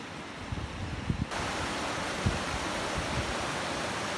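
River rapids and small waterfalls at Silica Rapids in Tongariro National Park give a loud, steady rush of water that swells sharply after a quieter first second and then stays constant.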